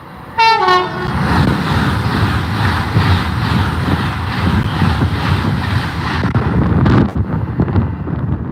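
An Avanti train passes close by heading north, opening with a short, loud horn blast and then a long, steady roar of wheels and carriages that runs on for several seconds, with wind buffeting the microphone.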